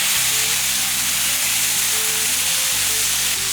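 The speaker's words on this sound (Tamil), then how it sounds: "கோவக்காயெல்லாம் நல்லா வதங்கிடுச்சு" Ivy gourd sautéing in a pan sizzles and hisses steadily for the whole stretch, a close, fairly loud frying noise with no talk over it.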